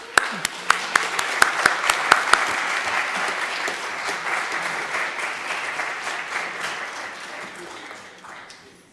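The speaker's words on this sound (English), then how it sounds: "Let's have a warm round of applause for Sister Shirley." An audience at a Black History Month early music concert applauds a storyteller, starting with a few sharp, close claps that quickly swell into full applause and then slowly fade.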